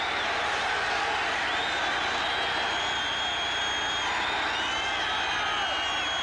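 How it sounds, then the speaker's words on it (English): Steady roar of a stadium crowd at a 1985 Eagles versus 49ers football game, a dense, continuous wash of murmuring voices with faint whistles or shouts rising through it. "Crowd is looking for some 49er defensive pressure here."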